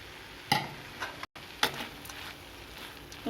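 Banana flower thoran with crushed coconut, cumin, onion and bird's eye chillies being stirred in a pan, with two distinct scraping clicks of a spoon over a faint steady sizzle.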